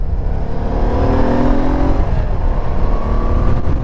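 Small car engine with a stainless steel exhaust idles and revs close by, a loud, buzzy, scooter-like drone with rising and falling pitch and no talking.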